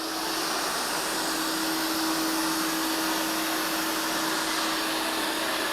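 A eufy RoboVac LR30 Hybrid+ robot vacuum runs at boosted suction, giving off a steady, loud airy whoosh with a constant high motor hum throughout.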